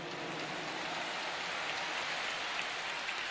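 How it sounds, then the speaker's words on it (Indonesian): A large outdoor political rally crowd at a stadium gives a steady, dense wash of applause, heard from a distance and continuing without a break, with no voices standing out above it. "Tepuk tangan buat semua yang hadir di sini"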